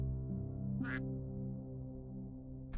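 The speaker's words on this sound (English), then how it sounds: "There should be some good squawking." Squawking birds in the Star Birds video game: a steady tonal drone runs throughout, broken by a short bright squawk near the one-second mark and another right at the end.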